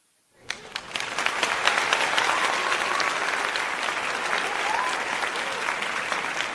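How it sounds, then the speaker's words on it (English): A canned applause sound effect from a livestream: dense clapping from a large crowd that swells in quickly and holds steady and loud throughout. "Let me get you some applause"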